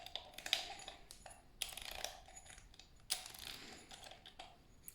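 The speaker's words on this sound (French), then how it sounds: "on prend cette molette, on appuie et puis on visse." Adjustment knob being screwed onto a Timemore Chestnut X hand coffee grinder, giving faint, close clicking and ratcheting ticks at an irregular pace in a quiet room.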